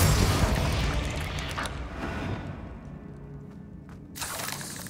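Incendio fire spell cast in the video game Hogwarts Legacy, a loud whooshing burst of flame that roars close up and tapers off, with a brief crackling flare near the end.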